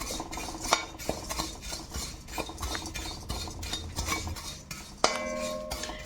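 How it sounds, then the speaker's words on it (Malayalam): Red poha (flattened rice) dry roasting in a pan while being stirred, giving a steady scraping and rustling with occasional clinks of the spoon against the pan. "ഡ്രൈ റോസ്റ്റ് ചെയ്യാനാണ് 2-3 മിനിറ്റ് ഇവിടെ ഇളക്കിക്കൊണ്ടിരിക്കണം."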